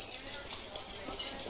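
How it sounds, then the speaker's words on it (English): Faint, irregular hoof clopping of a horse cart on Gili Trawangan, Lombok, in the background beneath steady hiss and a voice talking nearby. "I hear a horse coming,"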